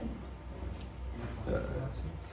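A single drawn-out, low gurgling burp, loud and close, rising midway through.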